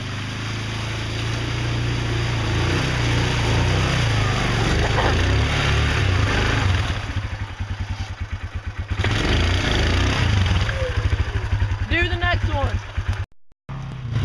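A two-wheel-drive Yamaha Grizzly ATV drives through mud. Its engine drones loudly and continuously, with a throbbing, pulsing stretch midway, and people talk over the noise.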